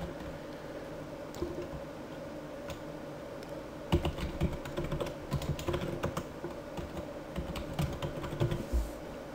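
A computer keyboard typed on in quick irregular bursts of close soft clicks while a new password is entered, continuous for several seconds over a faint room hum, with no speech.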